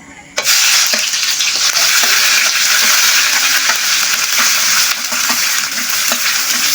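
Ginger, onion, garlic and dried fish fry together in a pan, sizzling loudly and continuously right up close after an abrupt start, with occasional stirring scrapes.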